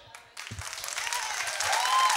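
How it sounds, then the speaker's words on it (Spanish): A television studio audience applauds a contestant in a head-to-head competition show. After a brief quiet start, dense, steady clapping begins and builds in loudness, sustained to the end with a faint high whistle-like tone threaded through. "Pues entonces, aplausos para Daniel."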